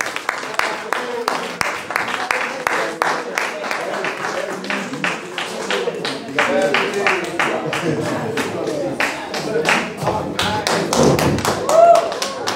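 Audience applause at a jazz concert, sharp individual claps blending into a sustained round of clapping with cheering, fairly close and loud, swelling toward the end.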